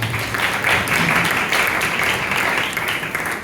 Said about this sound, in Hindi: तो अपने लिए जोरदार तालियां बजाइए।